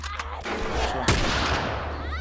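Gunfire in The Last of Us, a sharp loud shot near the middle over a dense, noisy game soundscape, with other bursty impacts and no talking.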